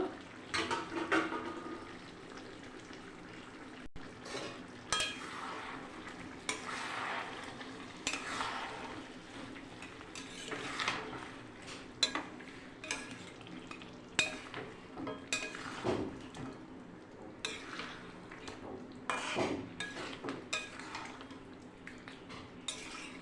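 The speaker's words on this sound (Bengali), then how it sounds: "থালাটা তুলে নিয়ে একটু নাড়াচাড়া দিয়ে নেব" Meat stirred in a pot on a gas stove, a steady scraping and clinking of a utensil against metal with soft sizzling throughout, moderately close and continuous without talk.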